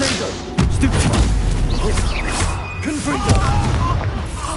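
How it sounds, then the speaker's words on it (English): A Confringo spell explodes in a Hogwarts wizarding video game: a loud, booming blast that hits suddenly, followed by sustained rumbling crashes and further bursts amid chaotic game noise. "Explosion!"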